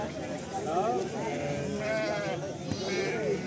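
Sheep bleat repeatedly at a livestock market in Pebbair, Telangana, with several wavering calls overlapping one another against a busy background murmur of the crowd.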